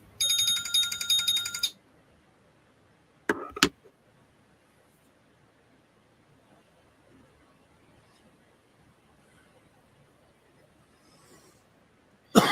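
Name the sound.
phone ringtone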